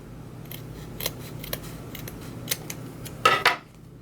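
Scissors snip through ribbon ends at a diagonal for a Halloween wreath, with a few light clicks and then one crisp, close cutting sound near the end.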